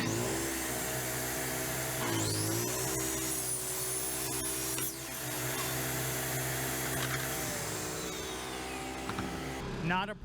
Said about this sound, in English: We will run a tile wet saw and a 12-inch compound miter saw cutting material